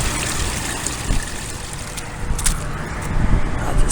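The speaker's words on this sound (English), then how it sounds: "See how fast the water is draining." Water drains steadily from a clogged roof conductor, a continuous broadband rush and trickle that swells louder toward the end, with occasional splashes and no talking.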